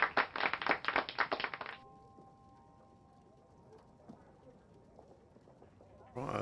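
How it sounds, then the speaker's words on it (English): A short round of applause in a game scene, a quick burst of clapping that lasts under two seconds and then gives way to a faint background hum. "Got to give that a round of applause."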